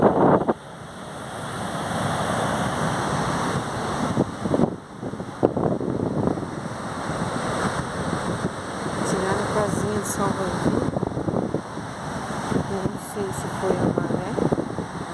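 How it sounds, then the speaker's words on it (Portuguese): Strong wind buffets the microphone on a cloudy beach, with a steady roar of surf beneath, continuous and close throughout, while a person talks over it. "Bastante vento aqui na praia."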